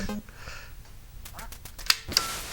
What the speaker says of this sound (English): You quack. I don't like you because you're not a cat, you're a duck.